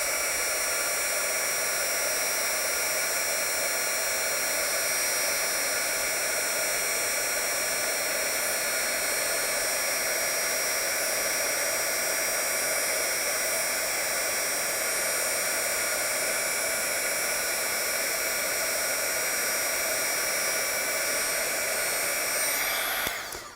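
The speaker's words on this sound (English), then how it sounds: "I'm going to take my heat tool, and I'm going to apply heat to this image" A handheld heat tool blows hot air to melt embossing powder on a stamped paper image, a continuous loud, even hiss-whoosh like a hair dryer that holds steady before cutting off at the end.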